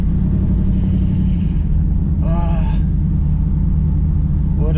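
A Chevrolet Camaro Z28 engine rumbles steadily as the car drives under its own power, a continuous loud low drone with a voice briefly calling out over it.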